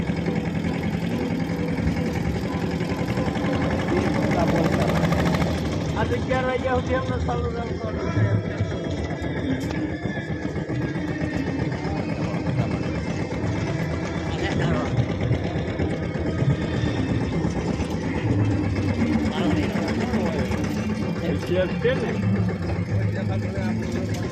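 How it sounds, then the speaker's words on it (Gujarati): A tractor engine idles with a steady, rumbling drone that runs throughout while people talk over it. "હવે અમારું ટ્રેક્ટર પોગી ગયું"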